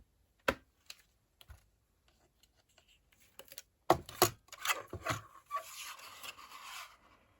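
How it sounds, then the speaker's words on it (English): A strip of stamped paper for faux vintage ephemera is trimmed, with a few isolated snips early, then a denser run of close cutting and rasping sounds toward the end. "So I'm just going to trim this end off here."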